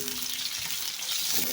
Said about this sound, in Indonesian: Bumbunya tak oseng setengah matang dulu ya teman-teman.